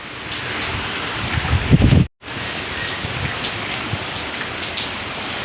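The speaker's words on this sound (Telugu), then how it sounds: "బాగా వర్షం పడుతూ ఉంది చూడండి" Heavy rain pours down outdoors in a loud, constant hiss of drops striking surfaces, with one brief cut-out partway through.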